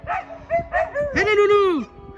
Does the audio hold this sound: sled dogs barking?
yes